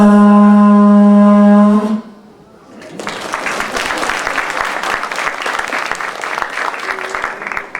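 A Māori conch shell trumpet, the pūtatara, gives one loud, steady, brassy blast for about two seconds, then a crowd breaks into applause.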